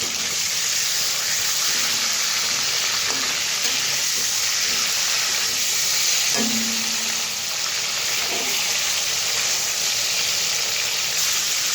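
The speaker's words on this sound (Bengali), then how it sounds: "এক এক করে সব মাছগুলো দিয়ে দিলাম। এক এক করে সব উল্টিয়ে দিই।" Prawns frying in hot oil for a Bengali yogurt prawn dish, placed and turned one by one: a steady, close hiss of sizzling with small scrapes and taps of a utensil, and no talking.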